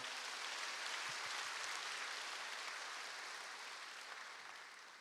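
Steady applause from a church congregation during a Sunday service, sustained and fairly even throughout, gradually tapering slightly toward the end.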